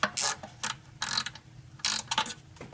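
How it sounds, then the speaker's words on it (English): A hand ratchet clicks in quick bursts while tightening bolts on the valve cover of a Toyota 2GR-FE V6 engine, close up and loud, with short gaps between strokes. "Okay, now we'll grab the ratchets."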